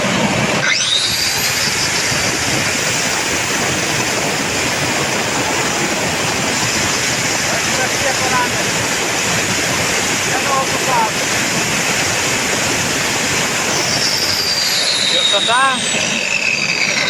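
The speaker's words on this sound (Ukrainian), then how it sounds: "И запускаємо болгарку." A high-pitched angle grinder, powered by a homemade 20 kW wood-fired generator, spins up sharply and runs at a constant whine for a long stretch, loud and close, then winds down near the end.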